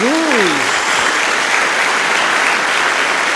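A church congregation bursts into loud, sustained applause praising Jesus, a dense steady roar of many clapping hands filling the room, with a brief voice rising at the very start.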